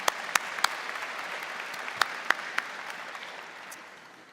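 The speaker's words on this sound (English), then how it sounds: "let's give another big hand of applause for our president and his team" Audience applause at a university spring convocation ceremony, a soft, steady patter of clapping with a few sharper claps standing out, fading toward the end.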